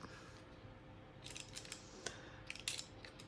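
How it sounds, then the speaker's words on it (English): Scissors snip through a junk journal cover to cut out the spine, several close crisp cuts growing busier toward the end over a quiet hum. "I'm going to actually cut the spine out"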